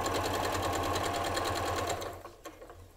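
Sewing machine stitches a quarter inch seam joining jelly roll quilt squares, a fast steady mechanical whir with rapid rhythmic ticking that stops abruptly, followed by a few faint clicks and handling sounds.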